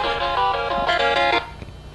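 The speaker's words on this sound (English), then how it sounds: "I'm getting a phone call." A mobile phone's ringtone sounds for an incoming call. A bright melodic tune plays in short bursts, up close and clear, and then cuts off abruptly.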